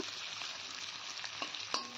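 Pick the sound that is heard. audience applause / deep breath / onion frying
onion frying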